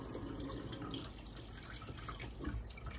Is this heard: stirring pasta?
no